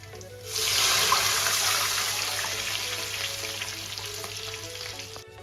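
A sudden loud hiss as water hits a hot oil tempering in a pan while cooking Maharashtrian shengole, the sizzling bubbling steadily and gradually easing off.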